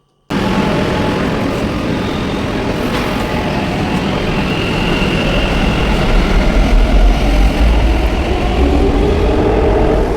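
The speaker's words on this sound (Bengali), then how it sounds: "আমরা মেট্রো স্টেশনে চলে এসেছিলাম, আর এখানে চলেও এসেছিলো তার কিছুক্ষণ পরেই ট্রেন" A metro train pulls into the station, its deep rolling rumble building steadily and growing louder over several seconds, with faint whine and track noise beneath.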